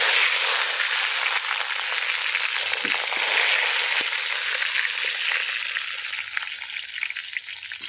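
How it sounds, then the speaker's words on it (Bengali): Eggplant slices frying in hot oil in a wok, a loud steady sizzle with crackling that continues throughout and eases slightly toward the end. "কড়ার তেল গরম হয়ে গেছে, আর গরম তেলের মধ্যে এই বেগুন দিয়ে দেব।"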